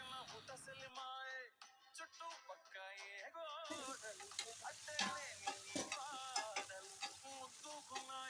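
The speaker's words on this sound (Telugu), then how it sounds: "మనం ముందుగా కట్ చేసి పెట్టుకున్న దొండకాయ ముక్కల్ని మెల్లగా ప్యాన్లోకి యాడ్ చేయాలి" Ivy gourd pieces hiss and crackle as they are stir-fried in hot oil with tempering spices, with repeated stirring scrapes in a pan, close up, and a short gap of near silence partway through.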